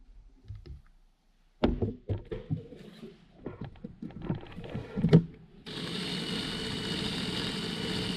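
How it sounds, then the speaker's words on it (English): A power drill is drilling out a stubborn steel bolt. A few scattered clicks and knocks come first, then the drill settles into a steady, close whirring grind that runs without a break to the end. "But let's continue to drill this one out."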